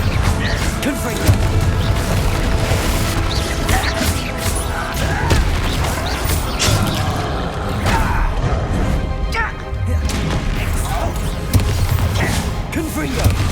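Fiery Confringo spell blasts in Hogwarts Legacy, a dense, loud, continuous barrage of crashing bursts and thuds layered over battle noise throughout, with no clear pauses.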